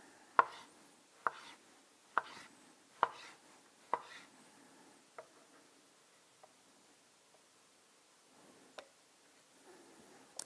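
A knife chops through mango on a cutting board, five evenly spaced sharp cuts followed by a few softer, scattered taps, close and alone against a quiet room.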